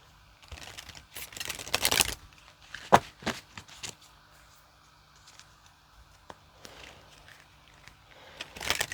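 Cards from a money oracle deck being shuffled and drawn by hand, with scattered papery flicks, slaps and rustles of varying loudness, close up and quiet overall, with no voice.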